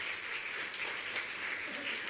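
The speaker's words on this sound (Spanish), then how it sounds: "La iglesia se alegra, le damos un aplauso al Señor." A church congregation applauding during a Sunday service: a soft, steady wash of clapping heard faintly from a distance, with no clear voices.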